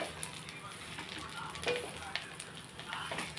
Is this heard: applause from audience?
no